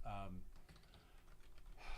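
Typing on a computer keyboard, a run of soft close clicks and taps spread across two seconds, with a voice speaking over it.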